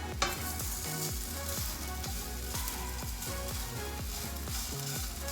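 Spam and mushrooms frying in a pan for upgraded instant ramen, a close steady sizzle with repeated rhythmic scraping and stirring strokes throughout, no talking.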